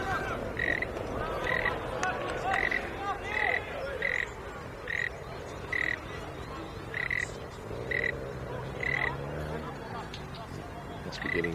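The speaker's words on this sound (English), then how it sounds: "Must be getting late. The frogs are coming out." Frogs croak in the evening at an outdoor sports ground, a steady series of loud, regularly spaced croaks over a background of crowd hubbub and distant voices.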